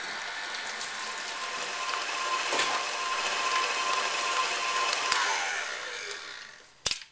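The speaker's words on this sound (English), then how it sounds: "You want to go ahead and mix it on medium speed until it's nice and light and airy again." Electric mixer beats petit four batter at medium speed, a steady close whirring drone with a faint rattling edge that runs nearly seven seconds before a sudden knock as it stops.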